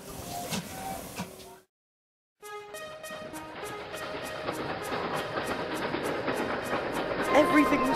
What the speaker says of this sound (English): "Come on, come on," puffed Thomas to his coaches as they headed out of the station